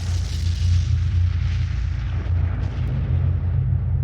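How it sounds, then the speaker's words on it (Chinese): A bomb explosion blast rolls out as a loud, deep, sustained rumbling roar that fills the whole four seconds without letting up. "a blast 原本指的是炸弹爆炸的那个巨大的声音"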